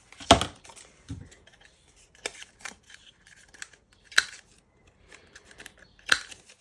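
Sharp snips of scissors cutting paper for Christmas junk journal ephemera, a few close, distinct cuts at irregular intervals with quiet rustling between them.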